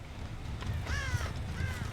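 Crow cawing in the video game Dead by Daylight: two or three harsh caws spread over a couple of seconds, fairly faint and distant over low game ambience.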